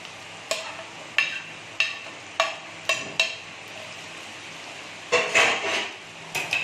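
Mushrooms dropped into melted butter in a frying pan, giving a series of sharp, close clatters and knocks at irregular intervals over a low background hiss, with a denser burst of clattering near the end.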